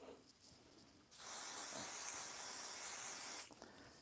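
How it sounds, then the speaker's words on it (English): A can of pixie spray hisses steadily onto a paper craft stencil in one continuous burst lasting a little over two seconds, close and fairly loud, with no talking. "I am going to spray this stencil with some pixie spray off camera here a second."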